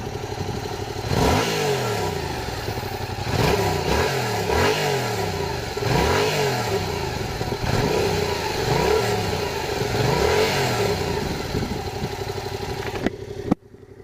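A stock-exhausted Yamaha MT-07 (FZ-07) motorcycle revs repeatedly up close, its parallel-twin engine climbing and falling in a string of sharp throttle blips over a steady idle, ending with a quick click.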